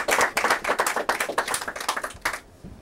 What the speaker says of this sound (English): please give a round of applause for Jamie Salisbury